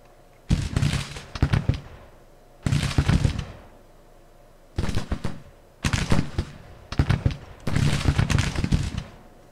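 Civil War troops in Grand Tactician fire in five separate rolling volleys of crackling musketry, each a cluster of overlapping shots with gaps of quiet between them.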